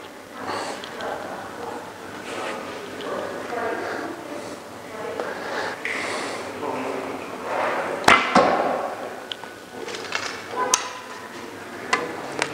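Arrows are shot from a traditional Geser bow using a thumb ring at short range, with a sharp snap of release and impact near the middle and a few lighter clicks, under intermittent talk.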